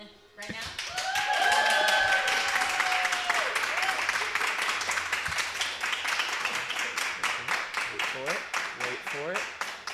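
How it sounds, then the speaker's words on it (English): A live show audience claps hard and cheers, with a few high whooping 'woo' calls early on, then the clapping thins into scattered, rhythmic claps that taper off toward the end. "if I just get a really confident like clap, cheer, somebody wooing"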